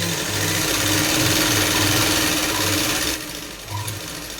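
A sewing machine runs steadily, stitching a half-inch slanted tuck to narrow the bottom of a readymade kurti. It is a continuous, close whirring hum that drops away to quieter handling near the end, with no talk.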